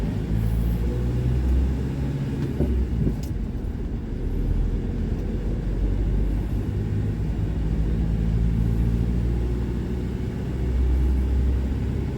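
A manual car on a driving-test road course moving up through first, second and third gears: a continuous close engine and road rumble with slight rises and dips in loudness, no voices.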